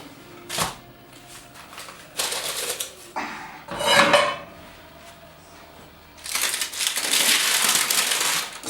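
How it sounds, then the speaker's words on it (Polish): Baking paper crackles and crinkles as it is peeled off a hot, freshly baked sourdough loaf, in several close bursts of rustling separated by brief pauses, louder toward the end. "Zdejmujemy ten papier."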